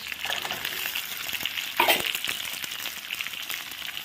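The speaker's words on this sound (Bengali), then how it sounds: "দিয়ে দিচ্ছি কিউব করে রাখা পেঁয়াজ" Cubed capsicum and onion hiss and crackle in a hot pan while being stir-fried, a steady close sizzle with a brief louder burst of spatter midway.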